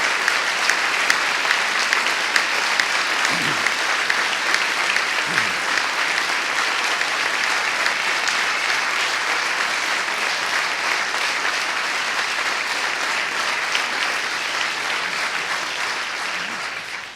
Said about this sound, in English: Let us give a great round of applause to thank Anthony and their entire team for the great work that they have done.